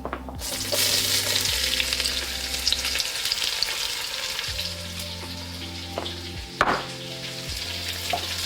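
Onions hit hot oil with cumin seeds in a pan for a plant-based soup, a loud continuous sizzle and crackle with a few clinks and stirring knocks, no talking.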